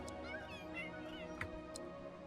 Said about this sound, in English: Such a cute little kitten.